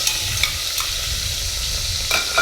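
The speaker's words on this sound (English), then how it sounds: "So, bacon. Hear that sizzle, sizzle, sizzle?" Bacon sizzles and crackles in a hot pan while cooking outdoors in the wind, a steady close hiss with a few sharper pops and spatters.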